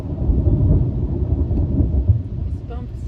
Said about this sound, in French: Mais il y a un orage qui a décidé d'arriver.